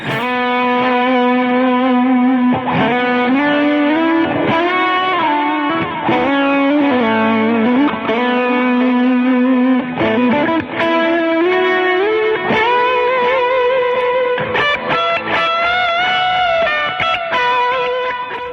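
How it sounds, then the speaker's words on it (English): Sustained electric guitar through an overdrive pedal with delay and reverb, long singing notes bending and gliding, thick and loud with trailing echoes, played alone. "I know I've got delay and reverb on, but it's the sustain coming out of it."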